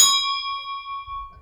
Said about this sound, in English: this is a simple bell. We put it on a rigid thing. It's an entry bell for a house